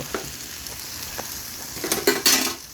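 Base sauce and tomato paste sautéing for jollof rice with pork, a soft steady sizzle broken by a few spoon scrapes and louder stirring bursts near the end.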